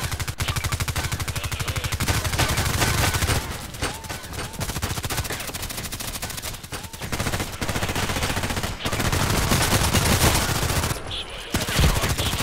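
A Vikhr rifle fires rapidly in the shooter game Contract Wars on the Terminal 2 map, with loud sustained automatic bursts rattling almost nonstop and a few short breaks between strings of shots.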